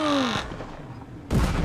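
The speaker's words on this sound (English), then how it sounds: "Oh, they're shooting him." Gunfire in the border-checkpoint game Papers, Please: a short, loud burst of shots that cuts in abruptly, a quiet pause, then another sharp blast.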